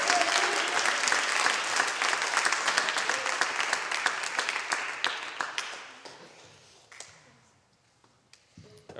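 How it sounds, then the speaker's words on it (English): A school geography bee audience at St. Mark Lutheran in 2021 applauds a student contestant: dense clapping that thins out and fades after about six seconds, leaving a few scattered claps. "All right, big round of applause."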